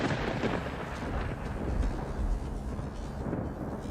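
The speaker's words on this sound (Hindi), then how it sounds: "थोड़ी देर बाद बिजली का कड़कना शुरू हुआ।" Thunder in a Hindi ghost story forms a loud, steady, rolling rumble that fills all four seconds with deep broadband roar and no talking.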